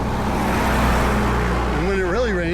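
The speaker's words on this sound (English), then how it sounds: "There's a car." A car swishes past on a road in Japan, its loud rush of tire and engine noise rising and fading under a man's speech.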